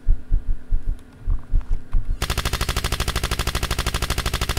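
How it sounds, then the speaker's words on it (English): In a horror video game, a slow, heavy heartbeat-like thudding gives way abruptly to a sustained burst of rapid machine gun fire, loud and evenly spaced, running to the end. "Machine gun? You were shot and killed while trespassing on private property."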